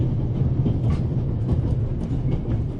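Orient Express steam train rolling along in the video game The Raven: Legacy of a Master Thief, a steady loud rumble with faint clickety-clack from the wheels, heard from inside the carriage.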